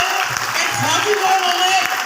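Audience applause at a motivational seminar, a brief burst of clapping heard under an announcer's loud voice over a speaker system.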